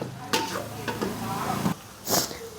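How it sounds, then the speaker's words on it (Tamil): Tomatoes sauté in a pan for biryani with a soft, continuous sizzle. A few brief scraping stirs punctuate it, and a louder scrape comes near the end. No voices. "நல்லா தக்காளியை வந்து ஸ்மாஷ் பண்ணி விட்டு லைட்டாக வதக்கினா போதும்."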